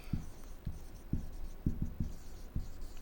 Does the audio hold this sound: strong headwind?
no